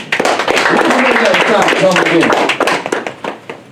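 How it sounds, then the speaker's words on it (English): An audience claps and cheers continuously for about three seconds, a dense, loud crackle of many hands with voices mixed in, tapering off at the end. "Give him a round of applause, y'all."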